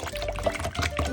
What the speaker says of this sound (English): Let's rinse off our paintbrush